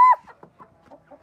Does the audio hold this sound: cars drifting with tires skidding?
no